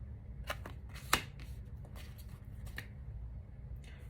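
Tarot cards being shuffled in the hands, with a few soft riffling bursts and one sharper snap of a card popping from the deck, quiet and close.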